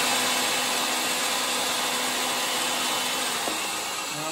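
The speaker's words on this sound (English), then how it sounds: "when I still have the pipe on the machine is we're going to deburr it" Threaded pipe is deburred on a pipe threading machine, a steady, loud rushing mechanical drone with a faint scraping change near the end and no talking.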